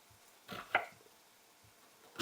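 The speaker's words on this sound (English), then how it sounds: "Keep it all together, turn it around, and run your knife through it." A knife dicing a large onion on a cutting board, two or three quick crisp chops close by, then a few softer taps against a quiet background.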